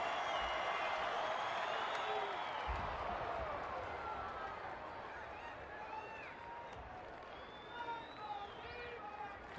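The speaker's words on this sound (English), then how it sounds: "Good crowd again tonight, good energy." A baseball stadium crowd at an Arizona home game makes a steady, dense wash of distant cheering and murmur, with a commentator talking over it.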